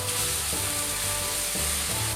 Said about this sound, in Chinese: 炸锅里偷点油来炒香酸菜和剁椒